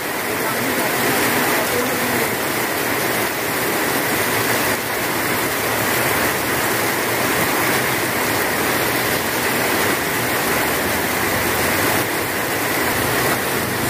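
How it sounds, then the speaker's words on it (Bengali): Steady rain falls over a Bangladeshi street after Eid, with CNG auto-rickshaws driving through it, a dense continuous hiss without a break. "ঈদের পরে আজ ৬ষ্ঠ দিনে বৃষ্টি আপনারা দেখতে পাচ্ছেন।"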